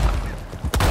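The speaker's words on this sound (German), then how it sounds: "du musst 5 Kaninchen abschießen" A gunshot fired while hunting rabbits from horseback in the video game Red Dead Redemption 2 rings out as one sharp, loud burst near the end, over a steady rumbling game background.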